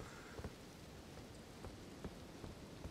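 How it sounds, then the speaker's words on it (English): Rain falls steadily in the Elden Ring video game, a soft even hiss of drops with faint low rumbles, quiet and continuous throughout. "it's raining again."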